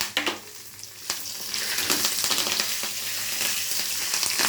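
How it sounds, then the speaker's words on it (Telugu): Dried red chillies sizzle and crackle in hot oil as a tempering of mustard seeds, cumin and fenugreek for a grated carrot chutney, with steady close frying hiss and occasional stirring clinks, no voices. "ఇప్పుడైతే ఎండుమిర్చి కూడా వేసుకుందామండి."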